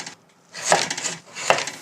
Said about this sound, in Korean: 무와 당근은 이렇게 둥글게 깎아줬고요